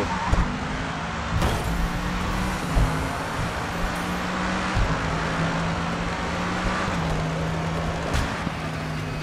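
Racing car in the video game Grid 2, damaged after hitting a wall with a flat right front tyre: a steady droning engine note with small pitch shifts, loud and continuous.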